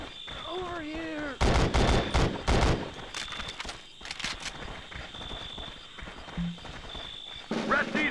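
Gunfire in the Conflict: Vietnam video game on PS2: several loud, close bursts of rapid automatic fire separated by short pauses, with shouted soldier voices and background battle noise.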